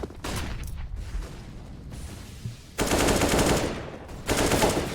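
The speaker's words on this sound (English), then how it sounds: "Shots ring through." Rapid bursts of automatic gunfire crackle through a Counter-Strike esports match at an ESL Challenger qualifier, loud and dense, with a short lull before a second volley erupts.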